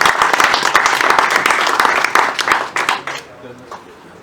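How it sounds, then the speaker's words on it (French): Applause for visiting sailors at a Golden Globe Race sailing press conference: a dense, loud round of clapping from the room that holds steady, then thins into a few scattered claps and fades out near the end. "je vous demanderai un applaudissement pour ces valeureux marins qui sont venus nous rendre"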